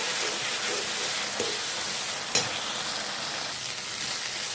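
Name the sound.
spice paste frying in oil for brinjal poppy seed curry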